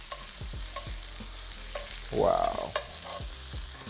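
Salmon fillets frying in a pan for tacos, with a soft steady sizzle under scattered taps and scrapes of a utensil, and one brief louder swell of sizzling midway as a fillet is flipped. A single short exclamation is heard.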